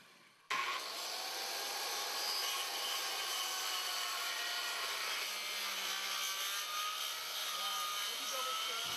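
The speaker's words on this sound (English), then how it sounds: "When cutting the stringers, I'll cut all the stairs in one direction first, being careful not to overcut the inside corner." A power saw cuts wooden deck stair stringers, giving a loud, steady high-pitched whine that starts abruptly and holds through the cut, close up with no talking.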